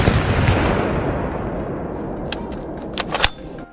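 A gunshot fired while hunting wild boar in the lowlands, a loud broad blast decaying into a long rumbling tail, followed by faint sharp clicks near the end.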